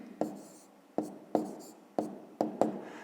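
Pen writing a math answer on paper, six sharp taps and short scratchy strokes at uneven intervals, close and quiet.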